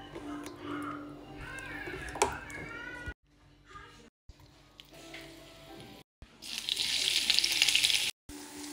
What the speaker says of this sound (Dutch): De uien gaan we nu bruin bakken.